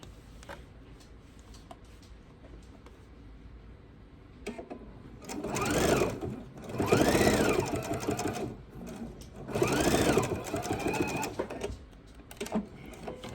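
A sewing machine stitches a bowl cozy in three long, steady bursts of fast whirring, close and moderately loud, with quiet ticking and handling sounds in the pauses between.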